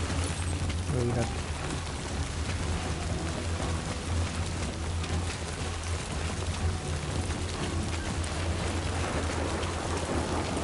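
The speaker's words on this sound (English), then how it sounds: "There's a storm coming." A thunderstorm in the video game Death Stranding 2, with heavy continuous rain pouring across surfaces and a deep rumble of thunder underneath, loud and unbroken from start to finish.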